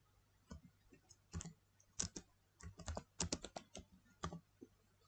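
Fingers type on a computer keyboard in quick irregular bursts of soft clicks, close and fairly quiet, with short pauses between keystrokes.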